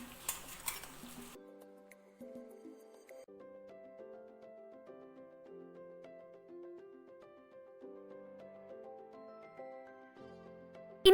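Ground spice paste is stirred into cooked tapioca for kappa biryani in a pan, giving soft scraping and stirring under a quiet background tone, after a brief burst of louder clattering at the start.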